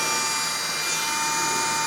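A roughly 40-year-old mini drill, repaired with a second-hand switch from an old hairdryer, runs steadily with a continuous high-pitched motor whine, close and alone with no pauses.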